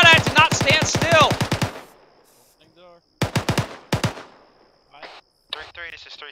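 Gunfire crackles during a military field training exercise: a long, loud, rapid automatic burst, a quiet gap, then further sharp volleys, with a brief radio voice near the end.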